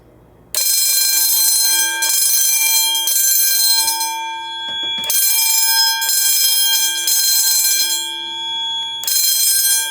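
A Notifier AFP-200 addressable fire alarm system sounds during a test, a loud continuous bell-like ringing tone that breaks off briefly twice and resumes, with no talking.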